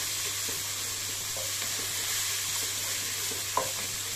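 Onion and finely chopped tomato are sautéed in a pan for Maharashtrian kande poha, making a soft, continuous frying hiss with faint scrapes of stirring and one sharp clink near the end, heard alone without talk.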